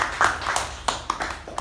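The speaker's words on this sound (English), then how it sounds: "Use round of applause to all the role takers." A few scattered claps from a small group at a club meeting, thanks for the people who took on meeting roles; the claps are sparse, brief and moderately close.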